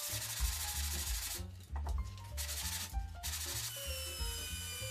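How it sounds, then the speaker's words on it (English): Rhythmic rubbing and scraping of a wooden radio enclosure being sanded by hand on a sanding board, back-and-forth strokes repeating steadily, close and fairly quiet. "Now I head to my sanding board to get the enclosure smoothed out all nice and even."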